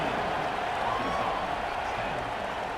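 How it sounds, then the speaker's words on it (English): A stadium crowd roars in College Football 26 during a Texas A&M Aggies versus Arkansas Razorbacks game: a dense, continuous cheer that stays loud and even for the whole stretch. "this crowd is feeling themselves after that last drive"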